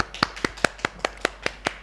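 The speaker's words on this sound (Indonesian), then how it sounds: "Beri tepuk tangan untuk kelompok 1." Sharp, evenly spaced hand claps ring out in a steady rhythm, about nine of them in a short run, given to group 1 during a micro-teaching practice class.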